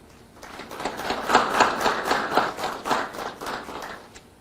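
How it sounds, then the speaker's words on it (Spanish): Modest applause from an audience at an academic talk on the rule of law and the social state, a few seconds of scattered clapping swelling and then fading. "de la palabra a Juan Sebastián Medina Ríos, a quien recibimos con un fuerte y caluroso aplauso."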